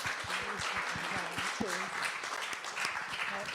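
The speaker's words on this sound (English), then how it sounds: "just give the panel a round of applause" A live podcast audience applauds the panel in steady, full clapping throughout, with a voice talking over the applause.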